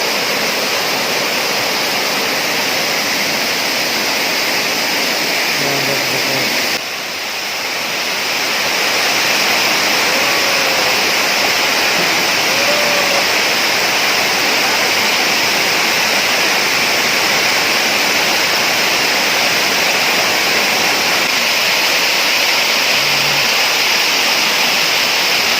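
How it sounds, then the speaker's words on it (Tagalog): A waterfall in Jiabong, Samar roars as a loud, steady broadband rush of falling water that fills the whole stretch without a break, no speech over it. "Beautiful falls."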